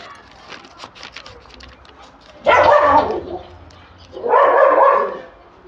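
A dog barks at kids standing outside a gate: two loud, close bursts of barking, each lasting about a second, with quieter yips and rustling before them.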